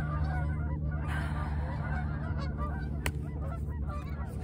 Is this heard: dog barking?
no